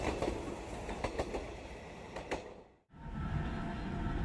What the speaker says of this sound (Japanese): ちょうど列車がやってきました。